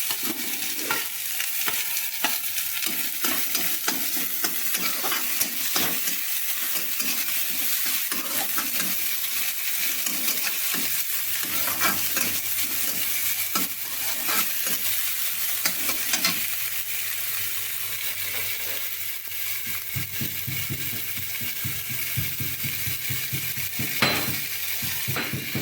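Chopped onion and green chili frying and being stirred in a pan for Mumbai-style vada pav, a steady close sizzle with frequent utensil scrapes and clinks throughout, no talking.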